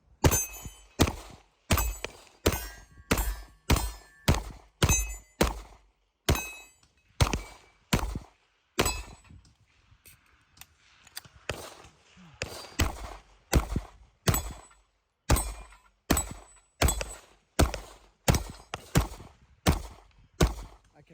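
A Sig Sauer handgun fires at a target outdoors, loud sharp shots in a steady rhythm, roughly one every second, with a short pause midway before firing resumes.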